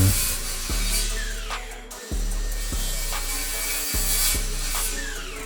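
Wood being hand-sawn in half at an angle on a slanted wooden crate in a basement, building DIY parallettes; steady repeated rasping saw strokes, close and loud, with brief pauses.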